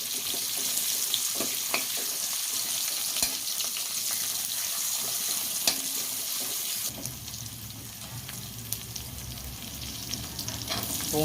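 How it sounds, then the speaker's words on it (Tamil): Finely chopped garlic sizzles in hot oil with fennel powder in a pan while fish puttu is being made, a steady crackling fry that shifts to a denser, lower hiss partway through as it is stirred. "பெருஞ்சீரக பொடி போட்டு காஞ்சதுக்கப்புறம் பூண்டு சேர்த்துருக்கோம்."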